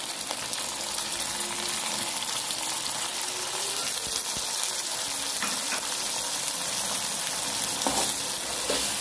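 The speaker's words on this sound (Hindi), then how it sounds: "अब इस मरहले पर मैं इसके अंदर टमाटर, 1 लीमू स्लाइस किया हुआ, और ये 5-6 सब्ज़ मिर्चें जो हैं ये शामिल कर रही हूँ।" Tomatoes, a sliced lemon and five or six green chillies sizzle in a pan of water while chana rice cooks, giving a steady, loud frying hiss with faint bubbling throughout.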